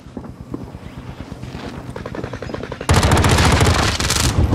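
Rapid automatic gunfire in Call of Duty Warzone Rebirth, starting with scattered shots and then breaking into a loud, dense, continuous burst of close fire in the second half.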